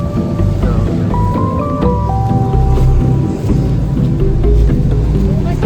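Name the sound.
rain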